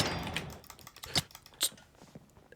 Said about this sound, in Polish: Słyszeliście, jak klikałem myszką